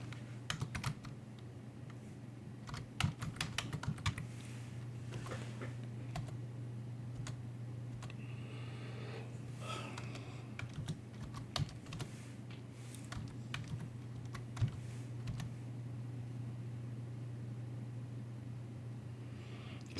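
Someone types at a computer keyboard in bursts of sharp clicks, with scattered single keystrokes and pauses over a steady low hum, close and moderately quiet, with no speech.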